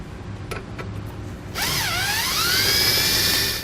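A power drill enlarges a hole to 1/2 inch in the front body of a 2017 Ford Focus while a tow base plate is fitted. A few sharp clicks come first, then a loud, close whine that rises and dips and holds steady.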